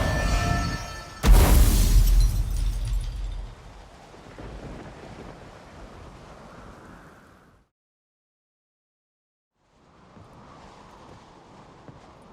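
A thunderstorm in The Witcher III game opens with a sharp, loud thunder crack that rolls off into a long rumble and wind, fades to near silence, then returns as faint wind and rain.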